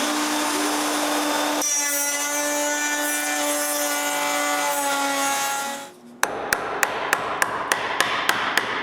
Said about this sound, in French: Il faut maintenant que je coupe une rainure sur la presse elle-même.